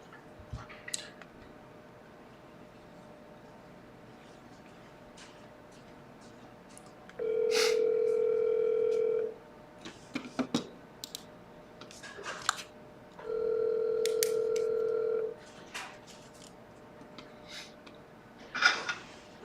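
An outgoing telephone call rings back with two long, steady electronic tones separated by a pause, over faint background clicks and taps.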